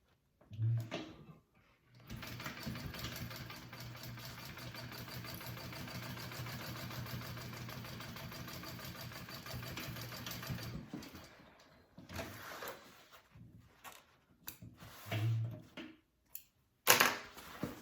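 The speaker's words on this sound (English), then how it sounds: "So now I'll sew that together." A sewing machine stitches a backpack together in one steady, close mechanical run of about nine seconds, with a few shorter bursts of stitching and handling noise after it.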